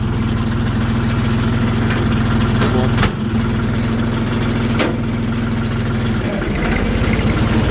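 A Jinma tractor engine idles with a steady, low, throbbing rumble close by, broken by a few sharp knocks and clanks.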